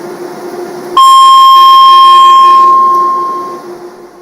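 A piercing high-pitched electronic beep from a public transport vehicle in Cyprus starts abruptly, holds a single loud steady tone for about two and a half seconds, then fades out over a quiet background hum.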